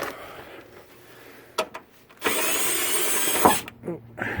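A power tool on a 1992 Ford F-150 during wiper motor replacement, a couple of short clicks then a loud whirring run of about a second and a half, followed by a few brief bursts.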